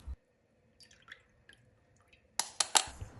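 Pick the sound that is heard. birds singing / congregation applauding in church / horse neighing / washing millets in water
washing millets in water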